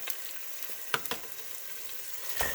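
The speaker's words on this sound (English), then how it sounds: "You should hear a sizzle like that." A pork tenderloin sizzles in hot oil in a pan, a steady crackling hiss with a few sharp pops and spits, heard up close and quiet with no one talking.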